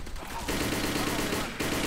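Gunfire in the online shooter Operation7, a burst of rapid shots running for over a second amid game noise, fairly loud and close.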